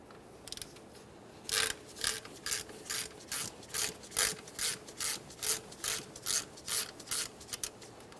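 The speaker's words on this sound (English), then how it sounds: "Then we can remove the belt from the pump pulley." Regular scraping, ratcheting strokes, about a dozen even pulses near the tool while the belt is worked off the power steering pump pulley of a 1994-1997 Honda Accord, with a few faint clicks before.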